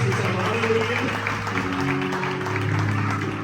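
Applause from a church congregation at a live praise and worship night, a steady dense wash of clapping filling the room with music and voices layered underneath.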